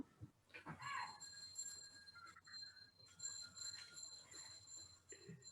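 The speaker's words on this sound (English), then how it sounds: "I think the bell is going off to say that the next session is due" Bell ringing during a school webinar session to signal the next session, faint repeated tonal chimes heard throughout at low level, with soft background noise.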